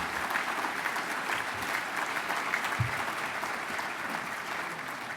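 An audience at the 2023 William J. Donovan Award ceremony breaks into steady, sustained applause, with many hands clapping together in a large room and no voices over it.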